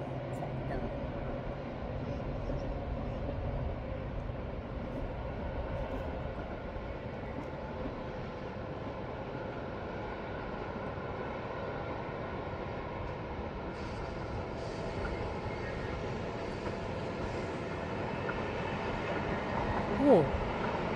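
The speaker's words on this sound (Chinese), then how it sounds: "那边可爱的火车来了" A Swiss train rumbles toward the Landwasser Viaduct, a steady low rolling drone of wheels on rails heard from some distance over outdoor ambience throughout.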